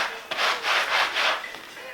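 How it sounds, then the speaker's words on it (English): A cheap, blunt chainsaw rasps through wooden floor beams in several short, close strokes, each a harsh gritty burst, with no talk. "The chainsaw's so blunt, that's what makes it harder."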